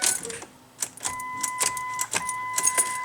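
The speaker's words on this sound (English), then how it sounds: "It does not start." A car with a low battery sits silent as a few soft clicks and electronic beeps sound, with no engine turning over or catching.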